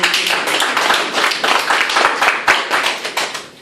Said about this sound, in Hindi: क्या आप अपने लिए एक ताली बजा सकते हो